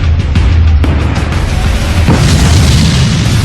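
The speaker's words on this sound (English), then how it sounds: "The next morning, a huge explosion rocks Anak Krakatau." A huge volcanic explosion at Anak Krakatau, Indonesia, comes across as a loud, sustained roaring boom that fills the whole stretch without letting up, with rumbling low end throughout.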